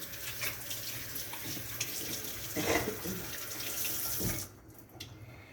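Tap water runs into a kitchen sink while hands are washed, a steady splashing hiss with small shifts in flow before the faucet is shut off near the end.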